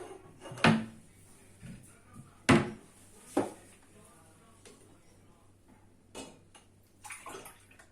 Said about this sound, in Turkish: Şimdi buna 6 su bardağı da su ilave edeceğiz.